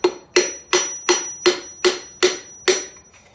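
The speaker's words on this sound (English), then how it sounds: "Take the back of a hammer, kind of push down on this so the rings don't slip out the sides." The back of a hammer taps a ringed piston down into an iron-block 5.3 LS engine cylinder, eight sharp, evenly spaced knocks up close in a quiet workshop, with no talking.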